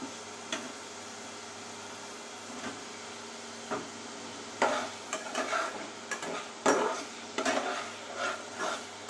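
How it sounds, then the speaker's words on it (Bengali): Eggs being stirred into a cooked-down spice masala in a pan, with soft scraping strokes of a spoon and a faint sizzle, quiet at first and then more frequent irregular scrapes toward the end. "মশলা কষানো হয়ে গেছে, ডিমটা দিয়ে দেই।"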